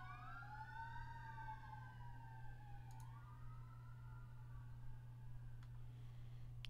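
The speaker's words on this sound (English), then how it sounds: "You hear these police cars outside?" Several police car sirens wail outside in overlapping rising and falling tones, moderately distant, over a steady low electrical hum with no talking.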